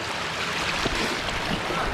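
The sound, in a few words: stream of water running down the path up Kinder Scout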